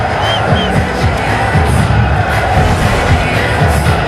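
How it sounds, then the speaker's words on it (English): Crowd at a cricket stadium during an India A versus Pakistan match, cheering as a dense, continuous roar with occasional whoops, loud and sustained throughout. "That got the crowd going,"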